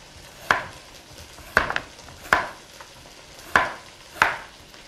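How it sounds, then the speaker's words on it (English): A knife slices a carrot on the diagonal against a cutting board, giving five sharp, evenly spaced chops close up, with quiet pauses between strokes and no talking. "I have my carrot, which I'm gonna go ahead and slice it on the diagonal just to make it look nice."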